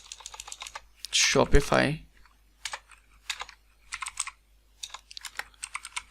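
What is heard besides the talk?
typing on a computer keyboard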